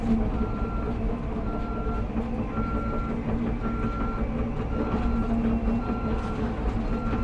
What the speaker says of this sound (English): I do love running a track hoe